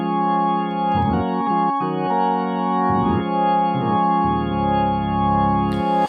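A Nord Stage 3 organ preset with the low drawbars pulled out plays sustained, harmonically rich chords, full and bass-heavy, with several chord changes and a lower held note near the end, heard alone at steady loudness.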